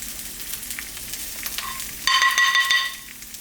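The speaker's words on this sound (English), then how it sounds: "Drop a little bit of coconut oil here in the pan." Coconut oil sizzling and crackling in a frying pan, a steady close hiss, with a brief high electronic tone ringing over it partway through.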